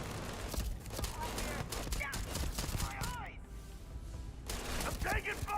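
Rapid bursts of gunfire in the Starfield video game crackle through a busy battle mix, with near and far shots layered over game sound and voices talking throughout.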